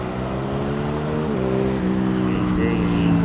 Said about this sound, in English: I love that throttle up,